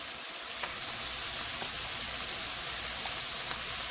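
Small chopped pieces of food frying in a pan, a steady soft sizzle with faint crackles and pops, fairly quiet and continuous with no talking.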